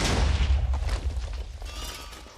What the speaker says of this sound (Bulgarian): Интересното е при тези Anvil бомби са, че те реално не чупят, пускат само анвили.